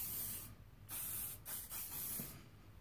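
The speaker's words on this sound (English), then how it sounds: "So I spray that really good." Hairspray sprayed onto freshly curled hair in three bursts of close, loud hissing: a long spray, a short puff and another long spray, separated by brief pauses.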